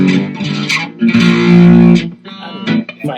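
Electric guitar run through a Pine-Box Customs Crooked Teeth pedal into a boutique amp, giving short distorted, modulated phrases with a sustained swell in the middle, played alone and fairly loud.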